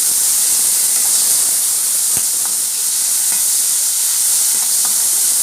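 Tomato sautéing in a pan for bitter gourd fry, a steady soft hiss of steam and sizzle with a few faint stirring clicks, no voices.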